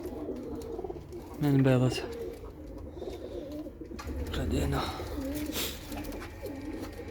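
Caged doves for sale coo close by with low, rhythmic, throaty calls recurring through the scene, while someone talks over them at normal volume.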